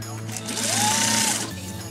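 A sewing machine stitches along a zipper, its presser foot riding the edge of the teeth, giving a steady close whirring hum that swells briefly in the middle.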